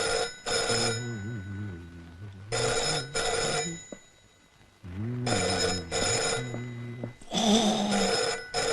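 An old-style telephone bell rings in three long double bursts with short pauses between, loud and close in an indoor room.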